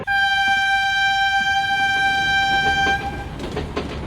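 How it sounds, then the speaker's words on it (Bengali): The Ghanti Pahar Express pulls away from a station platform. A loud, sustained horn blast lasts about three seconds, then gives way to the rumble and clatter of the moving train. "ট্রেন ছেড়ে দিচ্ছে তো"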